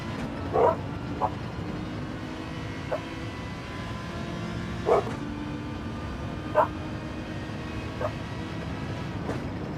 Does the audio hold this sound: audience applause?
no